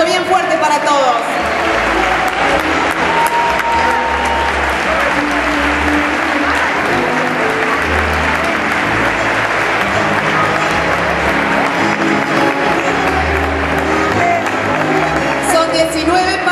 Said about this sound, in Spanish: Este aplauso bien fuerte para todos.